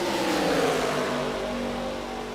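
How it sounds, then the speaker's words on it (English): Race cars in an Arctic Freeze 190 event roar steadily with a mid-pitched engine drone that eases slightly toward the end as throttle is lifted, loud and continuous with no talk. "You hear a little bit of a let off on a few drivers now."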